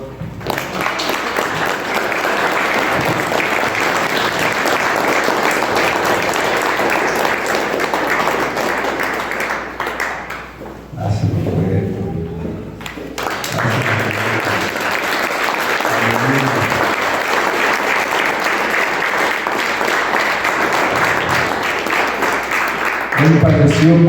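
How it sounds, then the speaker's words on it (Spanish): A church congregation applauds loudly and continuously during a Spanish-language sermon. The applause briefly thins out midway, then swells back to full strength for the rest of the span, with a voice faintly underneath. "Le das un aplauso al Señor."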